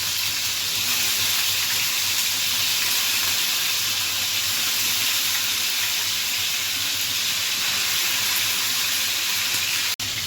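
Chicken frying in a pan for chicken kosha gives a steady, dense sizzle and hiss that holds even throughout, close up, with no voices.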